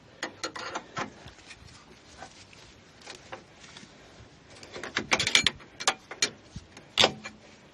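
A steering idler arm bracket on a Nissan Frontier truck being worked onto frame bolts with an alignment punch: scattered small metallic clicks, taps and scrapes, quiet and close, with a few sharper knocks near the end.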